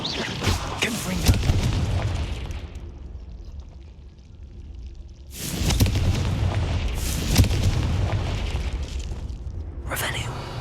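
Confringo blast spell from Hogwarts Legacy going off as a loud burst, followed by a second booming blast and a sharp late pop, all over a continuous rumbling game background.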